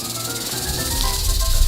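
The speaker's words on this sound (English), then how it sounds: "Snake." Snake giving a steady, breathy hiss that swells slightly louder toward the end, close and continuous with no speech over it.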